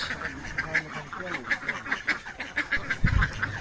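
Native ducks at a duck farm give a rapid run of repeated quacks close by, with a brief low thump near the end.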